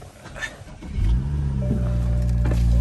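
A BMW F30 sedan with newly replaced tie rods starts up and settles into a steady, close engine drone that holds loud and even after a brief rising onset.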